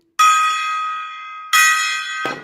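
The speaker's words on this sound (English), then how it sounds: "Give me a gong hit." A gong-hit sound effect rings out twice, each strike a loud, sustained metallic tone that slowly fades, with the second hit cut short by a brief noisy burst.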